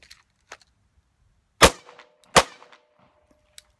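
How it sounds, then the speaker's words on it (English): Two sharp, loud gunshots into a rubber dummy's chest, about a second apart, each a crisp bang with a short ringing tail, surrounded by faint clicks and small knocks in an otherwise quiet setting. "Let's do some shooting in the chest,"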